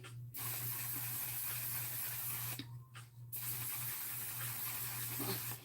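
Makeup setting spray mists from a pump bottle in a series of steady hissing sprays, close and fairly quiet, with short pauses between bursts and a faint low hum underneath.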